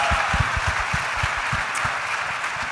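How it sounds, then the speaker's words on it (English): An audience applauds the Cleveland Browns rookie Carson at a stadium groundbreaking event, a small crowd's light clapping under a steady wash of noise at moderate level. "Give him a round of applause."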